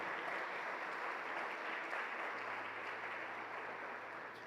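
A church congregation claps together in a sustained round of applause, steady and moderately distant throughout, fading a little at the close.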